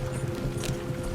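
Horses' hooves clip-clop in a quick, steady rhythm on open ground in the Red Dead Redemption 2 video game, close and continuous under a low background rumble.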